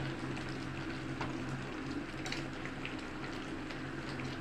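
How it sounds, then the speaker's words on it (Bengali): Mango pickle syrup boiling in a pan, a faint, steady bubbling hiss that continues without a break and has no talk over it. "এটা কিছুক্ষণ ফুটে জলটা মরে যাবে যখন, এই যে জল আছে, এই জলটা একটু মরে যাবে, একটু চাশনি মতো হয়ে যাবে।"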